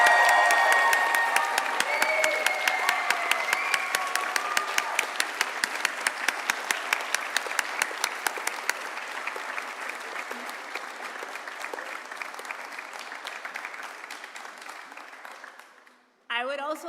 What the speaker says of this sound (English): give a very loud, and I said a very loud, round of applause to Mrs. Kobus and Mrs. Howard